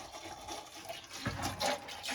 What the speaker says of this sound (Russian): Так, откручиваем, сливаем масло.